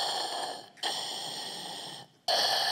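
A person imitates the muffled, mechanical breathing of Darth Vader: a long hissing inhale, a pause, then a harsh exhale, close and loud with no talking.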